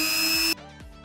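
Power tool grinding down a metal part for a 1/12 scale MN99s RC car, a loud high whine that cuts off abruptly partway through, then winds down in short fading revs.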